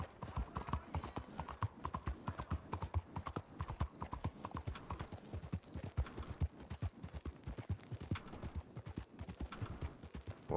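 Rhythmic clip-clop of a horse's hooves while riding in Red Dead Redemption 2, steady repeated hoofbeats at an even trot, fairly close but quiet, with faint breathing and no voices.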